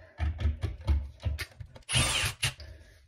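A power drill drives a screw in a series of short whirring bursts with ratcheting pauses, ending in a longer sustained run, close and loud with no talking.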